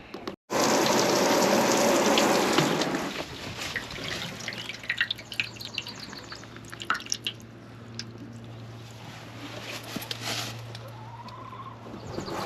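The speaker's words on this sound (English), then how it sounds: "Water's dripping out of those nicely." Water dripping out of a newly set-up worm bin for red wigglers and European nightcrawlers: after a loud wet rush at the start, steady patters and drips continue close by over a low hum, with no talking.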